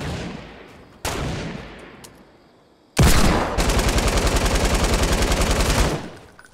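Automatic gunfire from a light machine gun in Fortnite Battle Royale: a few loud single shots, then a long, rapid, evenly spaced burst lasting about three seconds before it stops abruptly.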